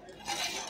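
Cocoa powder with sugar and starch being stirred cold in a pot for a princess cake mixture, a soft continuous scraping swirl that grows slightly louder halfway through, close and quiet with no talk.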